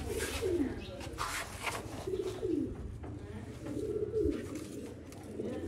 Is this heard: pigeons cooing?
yes